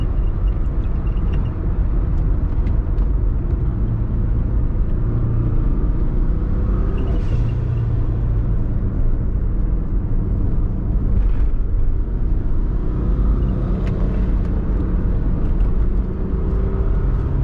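A twin turbo Subaru with a GT35 turbo pulls along a mountain road, its engine a loud continuous rumble heard from inside the car that rises and falls gently through the gears, with no speech.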